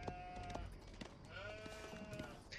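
Sheep bleating in the Age of Empires 4 video game, several short faint bleats overlapping in quick succession against quiet game ambience.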